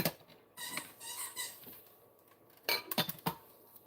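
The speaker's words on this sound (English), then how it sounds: "He's got his squeaky toy again." A dog chews a squeaky toy, producing scattered short squeaks and clicks in irregular bursts, some quick doubles, set against a quiet room with dishes faintly clinking.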